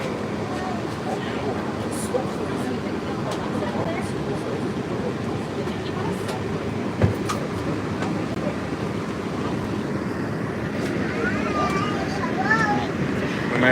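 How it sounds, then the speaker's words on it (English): Walt Disney World monorail riding along its track, a steady rumbling motor drone with road and wind noise, continuous and fairly loud from inside the car, with brief faint voices. "This one actually has an epic motor on this."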